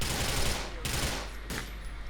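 Gunfire in the video game GTA 4: dense, continuous burst of shots filling the clip, with a couple of sharper cracks standing out near the middle, loud and close throughout.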